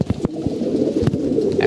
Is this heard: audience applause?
no